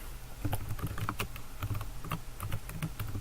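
Typing on a computer keyboard while entering commands in a terminal, with a steady run of close, crisp key clicks and heavier thumps that carry on without pause under a low background hum.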